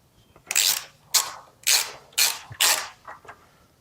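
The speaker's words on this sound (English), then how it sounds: "now I'm going to go ahead and tighten up these breather bolts with this 7/16 socket here" A 7/16 socket ratchet tightens the breather bolts on a Harley-Davidson Road Glide, with five crisp clicking bursts at an even pace, close and clear in a quiet space, followed by a couple of softer clicks.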